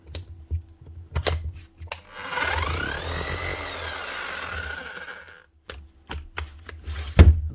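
A Bosch or Milwaukee rotary hammer drill from 2024 under repair spins up with a rising whine and rattling, runs for a few seconds, then stops, surrounded by scattered knocks and handling clatter.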